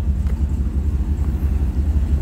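A numbers-matching original engine in a 1974 Chevrolet Corvette Stingray idles close by with a steady, low, pulsing rumble and no voices over it.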